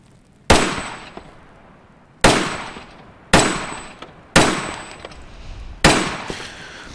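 Five sharp, loud gunshots from reloaded brass cartridges ring out one at a time at irregular intervals, each with a ringing decay, with no talking.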